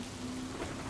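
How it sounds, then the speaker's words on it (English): Heavy rain falls in a steady, dense downpour with a faint low rumble of thunder beneath, close and continuous with no voices. "And then suddenly, it starts raining"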